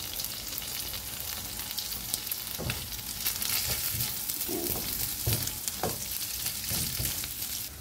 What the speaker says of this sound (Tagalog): Ito yung garlic. Then itong onion.